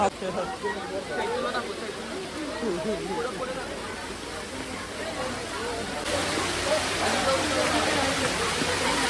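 Heavy rainwater rushes down the stone steps of the Omkareshwar temple during a downpour, a loud, continuous broadband roar that swells slightly near the end, with people talking close by over it.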